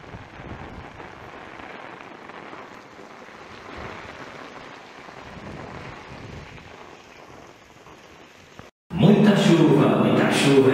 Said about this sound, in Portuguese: Muita chuva, muita chuva.